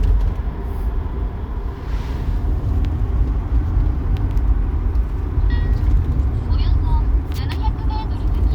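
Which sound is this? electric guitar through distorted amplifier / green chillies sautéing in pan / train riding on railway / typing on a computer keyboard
train riding on railway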